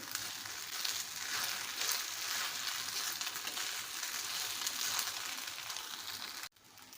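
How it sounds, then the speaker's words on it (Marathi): Crushed peanuts being mixed into sabudana khichdi in a hot pan, giving a steady soft sizzle with faint scraping and stirring, continuous at low level before cutting off abruptly near the end; no talk. "कूट घातलेला आहे मी आता आता व्यवस्थित मिक्स करते"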